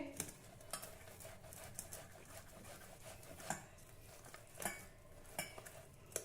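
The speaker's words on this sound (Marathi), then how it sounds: "आता आपल्याला हे बटाटे किसून घ्यायचे आहे" Boiled potatoes are rubbed across a kitchen grater with soft, faint rasping strokes and occasional light clinks, quiet and close in a home kitchen.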